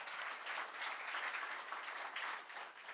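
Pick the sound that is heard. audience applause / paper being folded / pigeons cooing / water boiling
audience applause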